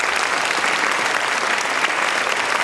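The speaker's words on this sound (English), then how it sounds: "Let's give them all a big round of applause." A short burst of dense, lively clapping from a film festival crowd, even and sustained with no talking.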